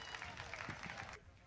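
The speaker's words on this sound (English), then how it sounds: "Please give them a round of applause as they come." An audience claps as a dance group comes on at a UN anniversary opening ceremony, a dense burst of applause that cuts off abruptly near the end, leaving a quieter room.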